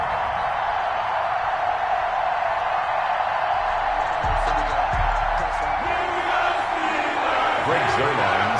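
Constant roar of an NFL stadium crowd in a football video game before a New York Jets versus Pittsburgh Steelers kickoff, broad and distant with whoops swelling near the end, under a commentator's voice.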